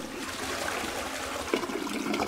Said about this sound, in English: Handle. Flush it.